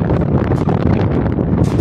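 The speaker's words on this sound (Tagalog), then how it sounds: "Ayan, medyo mahangin. Ayan, may tinatangay tayo ng hangin." Steady, loud wind buffeting a microphone on a stairway at Hundred Islands, Philippines, a continuous low rumble with gusty roar throughout.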